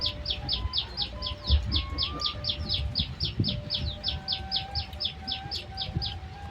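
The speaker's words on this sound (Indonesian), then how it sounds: "Suara burung baraya mantap." Birds outdoors in the afternoon give a rapid, evenly spaced series of high chirps that repeat without pause, fairly close, over soft background clatter.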